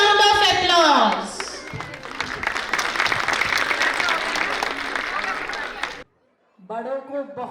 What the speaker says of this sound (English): Please welcome with a huge round of applause.